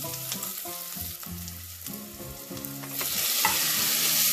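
Bottle gourd (upo) with tomatoes sautéing in a pan for a sour sinigang-style dish, a steady loud sizzle with stirring scrapes and clatter, growing brighter and hissier toward the end.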